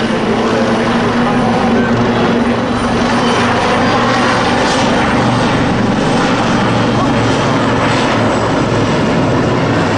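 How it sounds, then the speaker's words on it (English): Military helicopters, including a Wildcat, fly at the Bournemouth Air Show, a loud, continuous rotor and engine roar that holds steady throughout with dense rumbling and no breaks. "there are two different types of helicopter because in the other helicopter, not a Vixen HMA-8, is actually a Wildcat, and in that is Lieutenant Commander Gary Ba"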